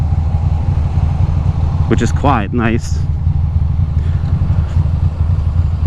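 Steady low engine rumble from a motorcycle exhaust heard while riding with earplugs runs throughout, with a brief voice heard over it midway.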